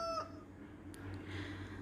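A hen clucks once, loud and close, at the start. Afterward a quiet outdoor background continues and nothing else stands out.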